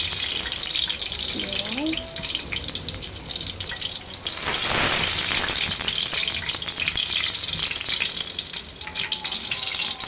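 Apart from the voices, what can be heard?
eggplant frying in a pan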